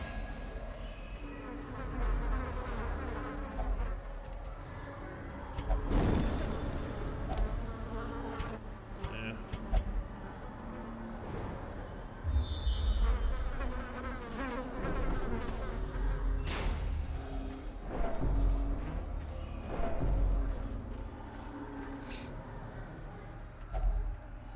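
Buzzing of a thronging insect hive in the Darkest Dungeon video game: a dense, sustained drone with scattered sharp thuds and clicks, fairly close and continuous.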